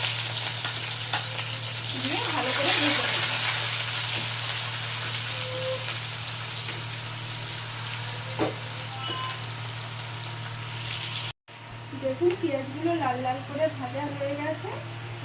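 Garlic and onions frying in a pan, a steady soft sizzle with a low hum underneath, while someone talks over it throughout.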